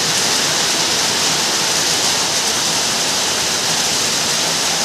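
A downpour of heavy rain roars steadily and loudly, a thick unbroken wash of sound with no other noises standing out.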